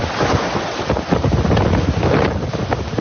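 A storm rolls in with strong wind gusting against the microphone and steady rain, a loud, continuous rushing roar with no voices.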